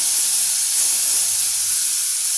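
Chopped onions and tomatoes hit a hot pan with curry leaves, giving a loud, steady, bright sizzling hiss that holds evenly throughout, close and unbroken.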